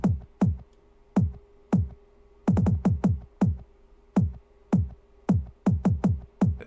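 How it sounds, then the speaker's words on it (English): Hip-hop beat kick drum pattern: punchy, close kicks with short decays, some single and some in quick double and triple bursts, loud and alone with no voices. "Then I got the kick pattern here,"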